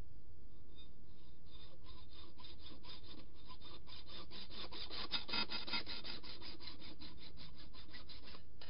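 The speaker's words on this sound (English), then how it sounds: "I'm going to cut through this. Yep. And I'm going to do it straight." A modified hacksaw cuts straight through a bicycle part, a steady run of rapid back-and-forth rasping strokes, close and fairly quiet, with no talk.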